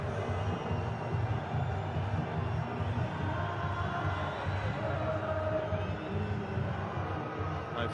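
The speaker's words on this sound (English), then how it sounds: "The cheering continues." A cricket stadium crowd at an IPL match between Mumbai Indians and Rajasthan Royals fills the air with a steady, dense roar of cheering and murmuring. It holds at an even level throughout with no clear peaks.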